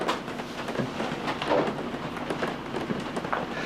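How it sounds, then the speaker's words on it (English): Heavy rain pours steadily at a campground in Woodbine, Maryland, a dense patter of drops with popping, popcorn-like crackling hits throughout, close and continuous with no talking. "Yes, Herbie, that is rain that you hear."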